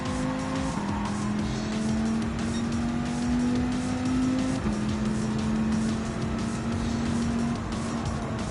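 Racing cars lapping a track in Gran Turismo 7 give a continuous engine drone with shifting pitch and tire noise, steady and moderately loud throughout without voices.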